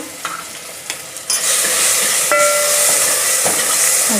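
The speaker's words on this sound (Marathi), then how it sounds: "आता बटाटा तेलावर फ्राय करून घेणार आहे." Grated potato dropped into hot oil in a pan, a loud, steady sizzle that jumps up after a few soft stirring clinks and holds, with a brief whistle-like tone partway through, no voices.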